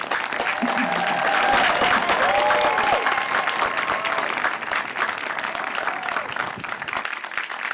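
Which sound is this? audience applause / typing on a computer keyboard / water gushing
audience applause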